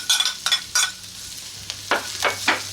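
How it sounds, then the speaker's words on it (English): Cabbage stir-fried in a very hot wok over a rocket stove, with sharp bursts of sizzle as it is tossed in a series of quick, rhythmic stir strokes, loud and close with no talk. "In with the cabbage."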